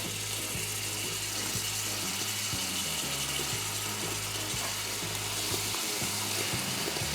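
Honeycomb honey melts into grouse fat in a hot pan, giving off a constant, dense sizzle and crackle with faint bubbling, close and unbroken throughout.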